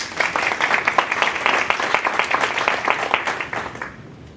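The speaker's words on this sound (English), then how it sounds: "Please welcome with a warm round of applause" A conference audience at INTEGRATE Chicago claps warmly to welcome speaker Clarissa Beyah-Taylor, a dense, lively round of applause that carries steadily for about four seconds before tapering off.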